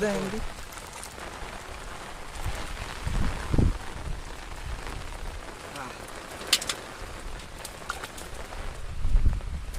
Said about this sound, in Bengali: অনেক পরিমাণ বৃষ্টি হইতেছে প্লাস বাতাসে আমার ছাতা গেছে ভাইঙ্গিয়া